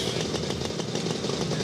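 Vintage Brough Superior SS80 motorcycle engine running steadily and close by at a vintage rally start, a continuous loud mechanical throb with rapid regular firing pulses and no break.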